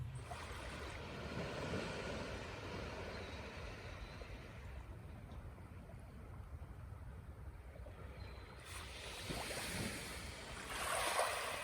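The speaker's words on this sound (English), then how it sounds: "So look at the sea. Just look at the ocean for a minute." Ocean waves wash continuously at the sea, a soft, broad roar of surf with gentle swells rising and falling, steady and somewhat distant with some wind.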